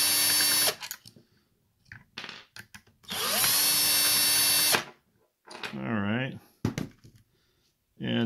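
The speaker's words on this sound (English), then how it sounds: "I find it much quicker to use a drill for the initial removal of the screws" A power drill whirs in bursts while backing screws out of a clear plastic holster for a Taurus G3C pistol, with two long loud runs and shorter revving spurts, close up between pauses and small handling clicks.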